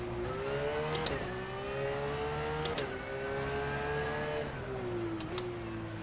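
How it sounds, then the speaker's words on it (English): A Porsche GT3 Cup racing car in the rFactor 2 sim revs steadily with a deep, rich engine note, pitch climbing through each gear before three quick upshift blips, loud and close with no talk. "But just listen to this car."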